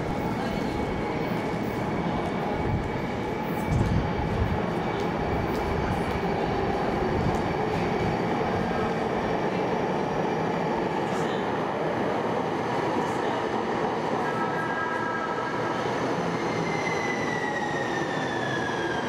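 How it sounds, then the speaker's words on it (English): A San Diego light-rail trolley pulls into a station with a steady rumble, clattering wheels and rising high squeals of wheels and motor whine, close and continuous. "The sound of the trolleys as they pull into stations"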